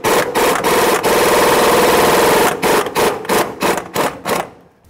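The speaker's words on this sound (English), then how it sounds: "27mm socket to remove this crank bolt," A 27mm socket on a 1/2-inch drive impact tool loosens the crankshaft bolt of a 2011-2021 Jeep Grand Cherokee, a loud continuous rattling hammer burst followed by several short choppy bursts close by.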